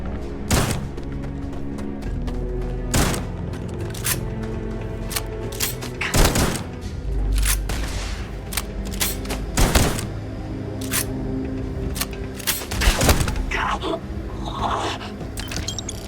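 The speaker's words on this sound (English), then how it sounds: "Firing back up!" A firefight in the video game Starfield delivers repeated loud, punchy gunshots in irregular volleys throughout. Thuds and scrapes mix in over a busy, constant combat backdrop.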